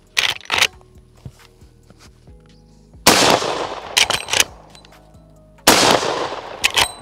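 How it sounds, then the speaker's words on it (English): Unsuppressed rifle shots from a Henry X, three loud sharp reports with ringing echo tails, spaced a few seconds apart, with quieter handling clicks between them. "we'll load this bad boy up, fire a couple of rounds, and see what kind of sound we get"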